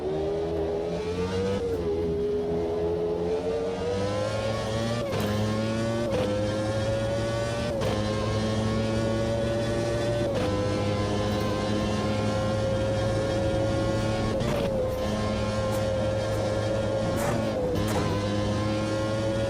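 A 1992/1997 Formula One car engine in Automobilista 2 screams at high revs, loud and close, rising and dropping in pitch through repeated sharp gear shifts as it accelerates.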